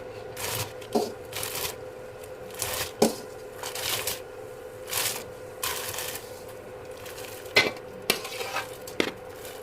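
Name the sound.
stirring sago in boiling salted water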